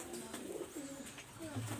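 A pair of pigeons coo close by, low throaty warbling calls rising and falling in quick succession, with a voice faintly present behind them.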